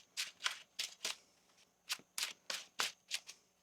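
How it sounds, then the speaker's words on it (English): Tarot cards being shuffled by hand, a run of about a dozen crisp riffling bursts in uneven groups, close and fairly quiet, with no talking. "One more shuffle here"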